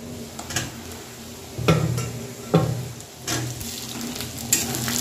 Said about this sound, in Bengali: তো আমি আর একটু ভেজে নেব।